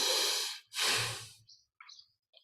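Two long, loud deliberate breaths, an exhalation then an inhalation, made on purpose during a guided meditation to imitate the slow breathing of a sleeper, followed by a few faint soft sounds and quiet pauses.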